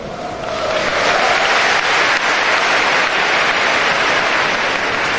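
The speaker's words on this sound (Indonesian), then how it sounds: "Anda nggak harus tepuk tangan" An audience at a public university lecture claps loudly and continuously, a dense, even wash of applause that swells after the first half second and holds to the end.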